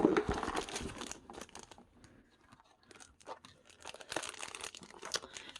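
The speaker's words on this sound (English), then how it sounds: "Let's get this paper out of here." Paper crinkles and crunches in close, irregular bursts as it is crumpled and handled, with no voices.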